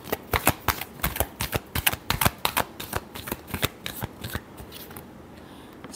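Tarot cards shuffled by hand in a rapid run of crisp riffling snaps, close and fairly loud, thinning out toward the end.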